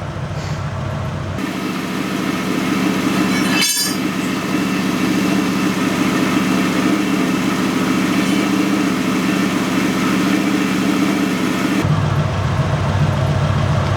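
An engine fitted with an Edelbrock 500 carburettor idles steadily and loudly at close range, a smooth even drone with one brief sharp transient early on and no voices.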